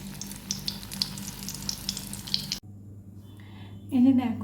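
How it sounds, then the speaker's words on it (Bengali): Small flour and egg dough balls frying in hot oil, a dense steady sizzle that cuts off abruptly, followed by quieter kitchen sounds and a voice speaking near the end. "এবার এটাকে আমি ছোট ছোট বড়া করে ভেজে তুলব।"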